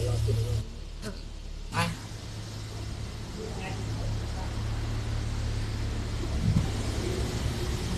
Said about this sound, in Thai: เราต้องสตาร์ทรถก่อนนะคะ